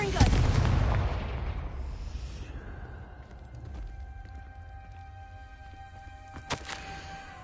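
A Confringo fire spell blasts in Hogwarts Legacy, a loud booming burst at the start that rolls off into a long rumbling decay, followed by a quieter sharp crack near the end over low ambient game sound.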